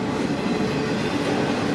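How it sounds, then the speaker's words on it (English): Two freight trains roll past up close, filling the air with a loud, steady rumble and rattle of railcars and wheels on track, with no voices over it. "Wow, two trains, not one, but two trains snuck up on me."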